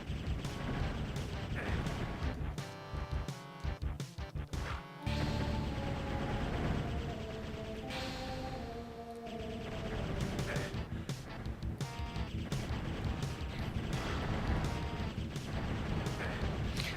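A weapon fires at enemies in the video game Heretic: clusters of sharp shots and impacts over steady game music and effects, busiest early on, then scattered hits.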